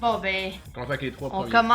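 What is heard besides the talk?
No everyday noises stand out.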